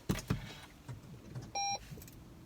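A Lexus NX 300h hybrid crossover is switched on: a couple of soft thumps, then a short, clear electronic start-up chime with no engine noise, quiet and close.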